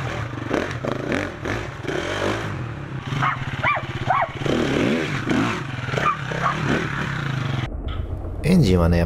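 A KTM Freeride off-road trials motorcycle engine revs in bursts beneath someone talking close by, with some clattering as the bike is handled.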